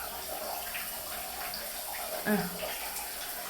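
Steady running water fills the space as a child is bathed, with a soft splash partway through, close and continuous, and faint voices underneath.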